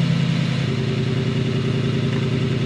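An 850 hp Keyvany car in Sport Plus mode idles with a deep, steady exhaust burble, the tone shifting slightly lower and richer partway through, close and loud with no talk.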